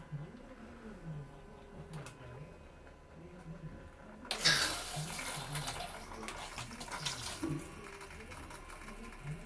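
Water runs into a Novita BDN353 bidet after its supply is connected, starting abruptly midway as a steady hiss and gush that carries on to the end, following a faint mechanical hum.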